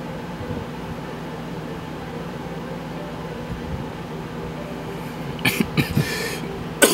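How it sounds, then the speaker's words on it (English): A man coughs a few times in short, rough bursts near the end, during a quiet indoor session painting ogre miniatures, over a steady low hum of background noise. "Man, I still got this cough that just won't go away."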